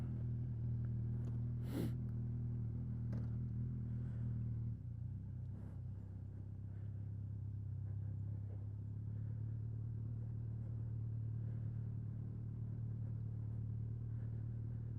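A motorcycle rides along with a steady, low engine hum and road rumble throughout, fairly quiet and continuous, with a few brief clicks and knocks and no voices.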